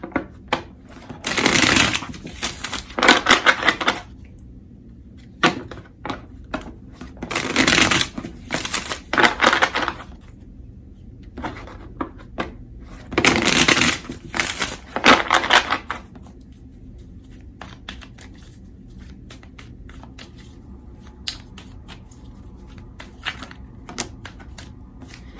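Tarot cards being shuffled by hand in several separate bursts, each a dense, crisp riffling rattle lasting a second or two, with quiet pauses and small taps and clicks between them.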